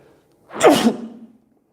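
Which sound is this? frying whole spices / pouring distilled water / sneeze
sneeze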